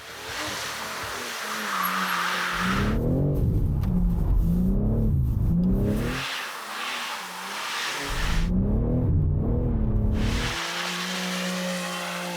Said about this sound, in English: Now, it's time to drift in the opposite direction.